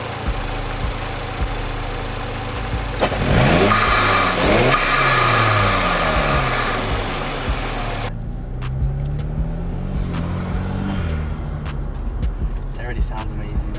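A turbocharged car engine revs hard to around 4,000 RPM, rising and falling through several sweeping pulls, then settles into a rumbling idle with brief blips, loud and close with someone talking excitedly over it.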